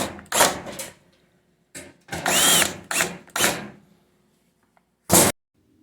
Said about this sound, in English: Just a number of Phillips head screws all the way around both panels. Just a matter of zipping them out